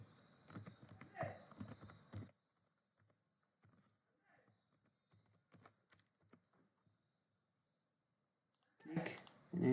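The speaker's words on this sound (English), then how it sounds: "let's type the password" Password keys tapped on a keyboard: a sparse run of light, separate clicks in a quiet stretch, with talking before and after.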